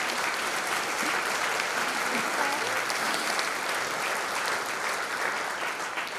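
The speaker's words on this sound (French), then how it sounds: "On peut leur donner une bonne main d'applaudissements" Audience applause for the performers of a show against violence toward women, a loud, dense and continuous round of clapping with faint crowd voices, sustained evenly from start to finish.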